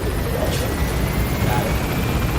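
Helicopter climbing in the video game Metal Gear Solid V: The Phantom Pain, a steady, dense rotor and engine roar that holds even and loud throughout, with no voices over it.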